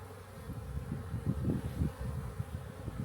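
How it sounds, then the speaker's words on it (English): Honey bees swarm around an active hive in Denmark, giving off a continuous low buzzing hum. Several wingbeats pulse a little louder as bees pass close, with a faint breezy outdoor background and no voices. "I just want to show you the bees, how active they are right now."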